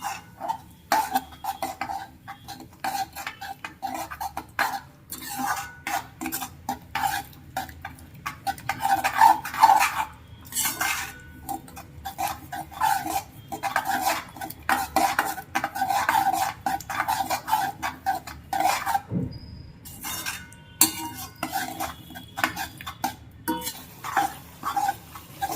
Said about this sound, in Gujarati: દહીં નાખ્યા પછી સતત હલાવતું અને દહીંને પકાવી દેવાનું ધીમા ગેસ ઉપર.